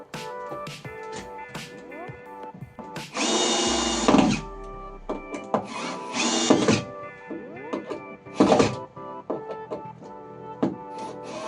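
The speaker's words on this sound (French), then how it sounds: "Je vais venir visser mes deux vis" Power drill driving screws into a wooden tie beam during a stone house renovation, with short whirring bursts and one longer sustained run, plus knocks and handling noises between them.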